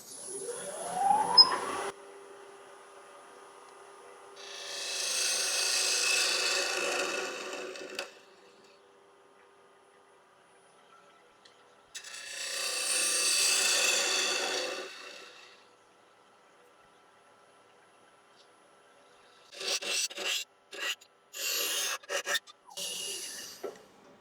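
A wooden capsule box being hollowed out on a woodturning lathe, with two long bursts of steady, breathy cutting and scraping separated by quiet, then a stretch of short, choppy scraping strokes near the end.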